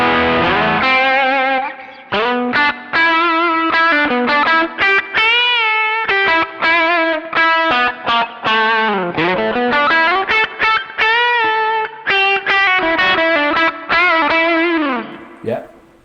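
Electric guitar played through a tiny Hotone British Invasion AC-style amp with the treble turned up full, giving a bright, distorted tone across a steady run of strummed chords and picked notes, loud and continuous with brief gaps.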